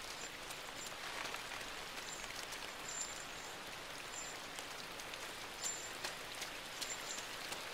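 Rain falls steadily in the video game Inside, a soft continuous hiss of drops with scattered brighter taps on surfaces and faint chirps, fairly quiet and even throughout.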